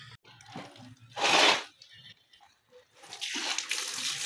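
Hot water gushes from a kitchen tap in short bursts, a close hiss of running water splashing into a sink, with quiet gaps and faint murmurs in between.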